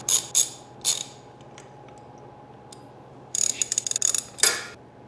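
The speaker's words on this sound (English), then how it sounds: "We have to remove the spark plug so we can get it to top dead center." A ratchet clicks close by as the caps and spark plug come off a Yamaha Raptor 250 engine, with a few short bursts, then quiet, then a rapid run of ratcheting clicks.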